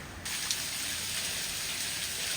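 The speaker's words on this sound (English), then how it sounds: "Black cloud comes over, rain buckets down." Steady, dense hiss of heavy rain pouring down on streets in Cozumel, Mexico, without a break, loud and continuous like a downpour on a hard surface.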